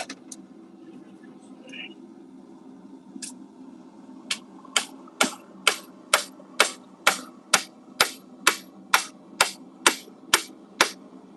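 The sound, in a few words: hammer striking on anvil at forge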